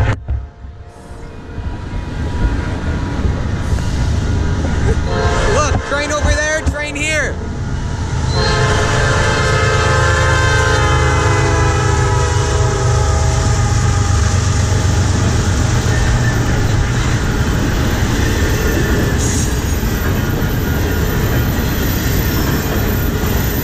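A northbound CN intermodal freight train rumbles past close and loud, its horn sounding early before a continuous heavy roar of wheels and cars fills the rest.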